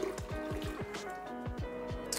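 Filtered water poured into a blender jar with cumin, nutritional yeast and lemon juice: a close, soft liquid gurgle with a series of rhythmic glugging pulses and rising fill tone, quiet and alone.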